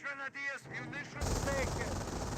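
Machine gun fire in the World War II strategy game Company of Heroes: a short voice at the start gives way to a dense, loud burst of automatic fire and battle noise.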